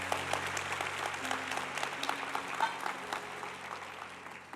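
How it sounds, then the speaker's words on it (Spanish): Church congregation applauding during a Spanish-language sermon, a fairly quiet, continuous patter of many hands clapping, heard from a distance in the hall. "Den un aplauso a la palabra de Dios"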